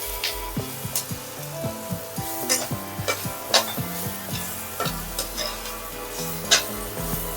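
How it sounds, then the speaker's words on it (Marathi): Turmeric sautéing in a pan of sweet corn upma gives a continuous sizzle, while a spoon stirs and scrapes against the pan in irregular knocks and clinks, close and without speech. "ह्याला थोडं परतून घेऊ"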